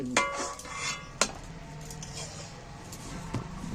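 A metal utensil scooping boiled tomatoes out of hot water in a home kitchen, with a few sharp clinks against the pot and soft watery scraping between them, close and fairly quiet.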